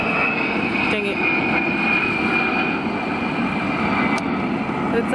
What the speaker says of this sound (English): It's like one of those military planes, but it has like this giant satellite dish looking thing on the top